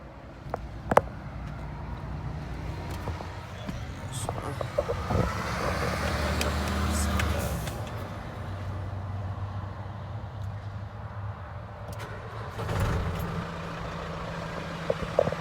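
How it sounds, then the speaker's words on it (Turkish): A MAN 12.153 truck engine starts and runs at a steady low idle close by, with a few sharp air hisses and clicks over the rumble. "Şu arabayı çalıştıralım."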